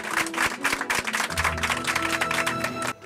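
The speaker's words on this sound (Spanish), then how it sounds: "Aplausos individuales y aplausos colectivos. De niños y de mayores." Applause from children and adults, individual and collective, heard as a few separate claps followed by fuller, denser clapping with a musical tone running underneath.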